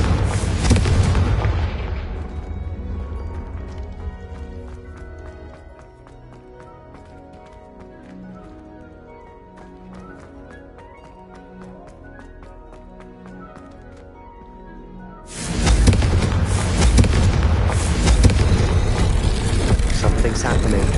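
Confringo fire-spell explosions in the video game Hogwarts Legacy erupt as loud, dense blasts at the start, fade to a quieter rumbling stretch, then return as a heavy, sustained barrage near the end.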